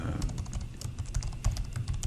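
Rapid, irregular keystrokes tap on a computer keyboard, close and steady for about two seconds, with no voices.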